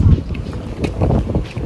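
A breezy wind outdoors in Athens rumbles and buffets the microphone in soft gusts, with a person talking underneath.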